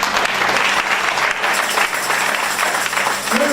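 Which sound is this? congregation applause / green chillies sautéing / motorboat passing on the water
congregation applause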